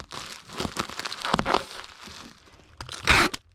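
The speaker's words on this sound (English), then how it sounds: "And now we will tape this end up." Packing tape sealing the end of a cardboard box: close crinkling and tearing rips in quick bursts, with a louder final strip pull near the end.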